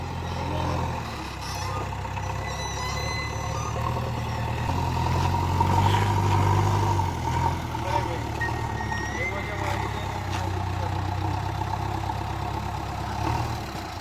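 A tipper truck's engine idles with a steady low rumble, and faint beeps sound intermittently over it outdoors, with some background noise.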